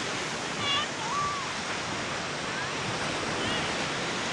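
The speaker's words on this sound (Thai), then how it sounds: "ทะเลนี่นะครับมันแหม ได้ยินเสียงคลื่นแล้ว" Sea waves washing onto a quiet beach at Pranburi, a steady broad surf wash with gentle swells, plus a couple of faint high chirps in the background.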